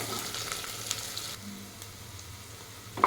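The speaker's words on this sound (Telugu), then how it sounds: "onion light brown colour వచ్చిందాక fry చేసుకోవాలండి మంచి ఫ్రై చేసుకోవాలి" Onions fry in a pan for mushroom biryani, a soft steady sizzle that eases partway through, ending with a brief clink of stirring.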